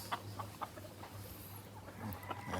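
Several chickens cluck softly over steady background hum, short clucks scattered through the clip, fairly distant and faint, with no one talking.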